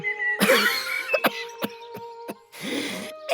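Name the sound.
tiger character coughing in animated story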